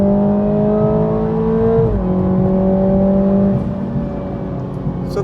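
A 2020 Toyota Supra 2.0 accelerates at full throttle out of a corner, its engine drone loud and steady from inside the car, dropping in pitch once as it shifts, then holding before easing off.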